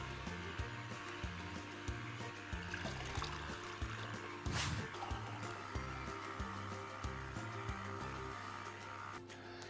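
A Hurom juicer pressing ginger for detox juice churns with a steady low motor drone, rhythmic squeezing pulses and trickling liquid, faint and continuous.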